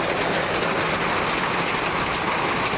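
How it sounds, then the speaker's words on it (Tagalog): Heavy rain pours steadily in a Philippine downpour, a dense, constant hiss with no let-up, loud and close throughout. "Maulan po kasi malakas yung ulan."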